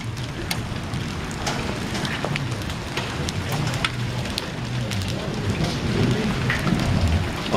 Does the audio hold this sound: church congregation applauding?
no